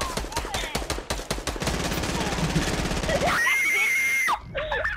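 A loud scream inside a Fortnite match rises over rapid gunfire bursts, holding as a sustained high wail for about a second before cutting off, with the game's battle noise dense throughout.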